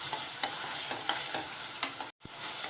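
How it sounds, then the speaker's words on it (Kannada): Tomato paste with turmeric frying in oil for sweet corn kurma, giving a continuous close sizzle with a few soft stirring scrapes and a brief dropout near the end. "ಟೊಮೆಟೊ ಪೇಸ್ಟ್ ಮಾಡ್ಕೊಂಡಿರೋದು ಇದು ಚೆನ್ನಾಗಿ 1-5 ನಿಮಿಷ ಫ್ರೈ ಆಗಬೇಕು"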